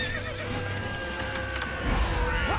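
A horse neighs in The Witcher 3 amid busy game action, with rising and falling whinny tones over rumbling background sound that swells louder near the end.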